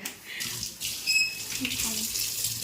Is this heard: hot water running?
yes